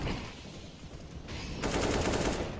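Gunfire in the Counter-Strike match between SK Gaming and Misfits, with a rapid run of loud, dense shots that grows busier in the second half, sounding like sustained spraying rather than isolated single rounds.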